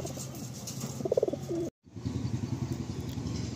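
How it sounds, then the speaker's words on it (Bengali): Loft pigeons cooing up close in their coop, soft repeated low coos with a brief dropout midway, steady background hum and faint chirps, no voices. "আর একটা ফিমেল পায়রা দেখাচ্ছি আমি আমার ঘর থেকে"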